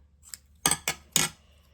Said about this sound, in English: Let's cut a little bit more off that.